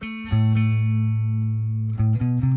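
A guitar plays a short sequence of notes, a long sustained tone followed by quick stepwise changes in pitch, loud and close.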